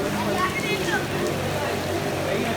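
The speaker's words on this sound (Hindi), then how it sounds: "बारिश बहुत तेज होना शुरू हो गई।" Heavy rain starting during a dangerous storm, a dense, steady hiss of downpour filling the scene, with a voice speaking over it throughout.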